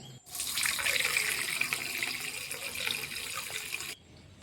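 A steady stream of water is poured into a coffee-powder fertilizer mix. It is a close, continuous gurgling splash that lasts a few seconds and then stops abruptly.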